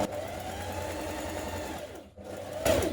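A sewing machine runs steadily, stitching the front seam of a pair of dungarees, with a brief pause near the end before the motor whines up again loudly; no one speaks.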